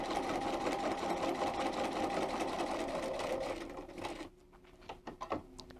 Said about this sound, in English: put my presser foot down, and I'm going to sew till I get to letter D